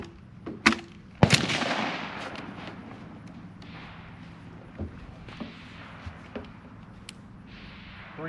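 Gunshots at a winter run-and-gun shooting competition ring out outdoors: two sharp reports, then a loud blast with a long echoing decay, followed by several fainter distant pops scattered through the quiet.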